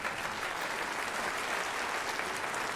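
Steady, dense applause from an audience at a university honors convocation, recognizing students elected to Phi Kappa Phi; even, sustained clapping fills the hall with no pauses.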